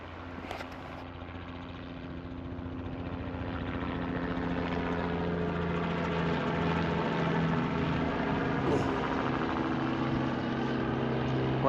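In the New Zealand backcountry, a helicopter carrying a young deer slung beneath it drones with a steady rotor and engine hum that swells a little louder as it goes on, with no talking.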